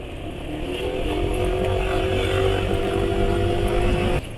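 Motorcycle engine running on SAE 40 oil while riding, a steady loud droning hum with constant rumble and faint mechanical clatter, close and uninterrupted.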